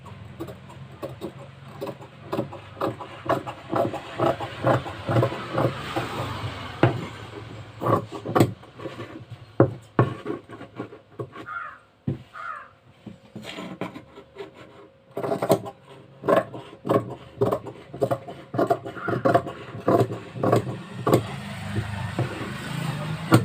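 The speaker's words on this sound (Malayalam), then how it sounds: "നമുക്ക് ആവശ്യമുള്ള തയ്യൽ തുണി വെച്ചിട്ട് കട്ട് ചെയ്തെടുക്കാം." Scissors cut through tailoring cloth for a saree blouse back piece, with repeated crisp snips and rustling fabric in uneven bursts, close up and fairly loud.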